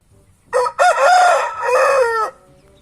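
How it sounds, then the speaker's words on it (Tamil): A rooster crows loudly and close by, one full cock-a-doodle-doo with a brief clucking start, heard alone against a quiet background. "கோழி கூவிட்டு"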